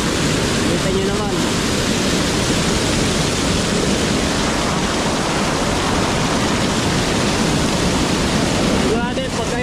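Floodwater rushes through the opened gates of Molino Dam during a typhoon, a loud, steady roar of churning water filling the whole scene, with faint voices talking now and then beneath it.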